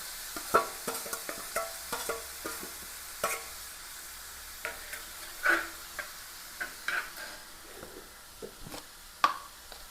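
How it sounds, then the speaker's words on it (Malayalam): Crushed ginger and garlic sizzle in a hot pan while a utensil stirs, making irregular sharp scraping clicks over a soft, continuous frying hiss. "ഇഞ്ചി വെളുത്തുള്ളി ചതച്ചതാണ് നന്നായിട്ട് ഇട്ട് കൊടുക്കുക"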